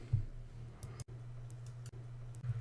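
A computer mouse clicks a software button, producing a few short, crisp clicks that are close and quiet, over a low steady electrical hum, with no talk.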